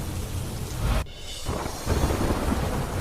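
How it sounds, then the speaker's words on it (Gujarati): Heavy downpour with thunder in Manavadar, Junagadh, Gujarat: a steady loud roar of rain, broken near the one-second mark by a brief hush before the storm noise swells back, with low rumbling underneath. "જૂનાગઢના માણાવદર, બાંધવામાં વરસ્યો ધોધમાર વરસાદ."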